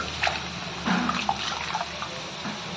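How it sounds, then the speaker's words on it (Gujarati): Rice and lentils being swished and rinsed in water, with soft sloshing and splashing sounds close by, nearly continuous over a few seconds. "હાલો હું ખીચડી"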